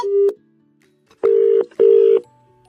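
A phone call is hung up and a telephone line tone follows, sounding as three loud, steady electronic beeps with short gaps between them, alone and close.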